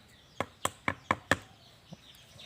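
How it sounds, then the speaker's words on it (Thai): Knuckle taps on a ripe durian from Chanthaburi weighing nearly three kilograms: five sharp, hollow knocks in a quick, even rhythm, then one fainter tap after a short pause, close and alone. "สุกแล้วเอาให้เพื่อนๆฟังหน่อยสุกเป็นยังไงเคาะหน่อย"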